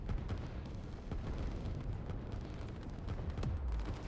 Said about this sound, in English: I believe both of these interceptors will be shot down